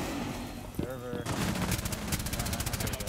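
Rapid gunfire in a shooter game crackles in a fast steady burst across the second half, preceded by a short bright tone and mixed game noise.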